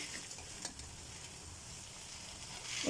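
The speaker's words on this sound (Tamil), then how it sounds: "மிளகாய் நம்ம போட்டு ஃப்ரை பண்ணுறோம்" Red chillies frying in a pan for sambar powder, a faint, steady sizzle with soft stirring scrapes, swelling slightly louder near the end.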